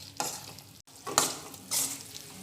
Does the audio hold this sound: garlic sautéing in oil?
yes